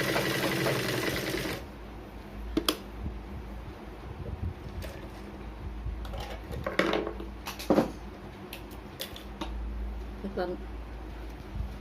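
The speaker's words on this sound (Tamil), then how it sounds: "இனி சுற்றி ஒரு 1/4 இன்ச்சுக்கு தையல் போட்டுக்கலாம்." A sewing machine stitches the lining of a blouse back, running in a steady close whir with short stops and restarts and small clicks between runs.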